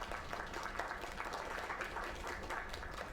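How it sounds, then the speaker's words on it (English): Quiet, even applause from a crowd in the video game Lake patters steadily throughout, sounding somewhat distant and muffled. "Another round of applause."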